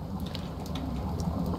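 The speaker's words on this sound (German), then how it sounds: "das war nur ein bisschen Regen" Steady rainfall in the survival game Stranded Deep, a dense continuous hiss with patter and a low rumble throughout, no voices.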